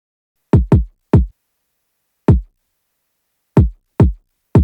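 Seven punchy kick drum hits in a syncopated hip hop pattern, dry and alone with short gaps and one longer pause midway.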